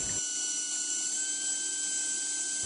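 A Rotaflex rotary cutter slicing through an eggshell gives a steady, high-pitched whine that holds constant and close for the whole stretch, with no voices.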